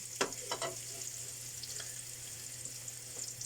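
Malunggay leaves and canned century tuna stirred in a frying pan, a soft sizzle with a few sharp scraping clinks at the start, quiet and close, with a low steady hum underneath.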